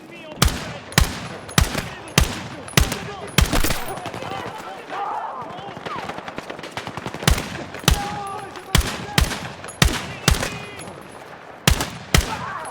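Rapid video-game gunfire in Battlefield 6, sharp repeated shots in spaced bursts across the whole stretch, loud and close, with quieter battlefield noise underneath.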